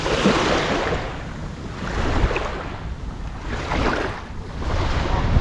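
Sea waves rolling onto a beach in Valencia, Spain, rising and falling in broad surges of surf with steady wind rumble over the microphone; no voices.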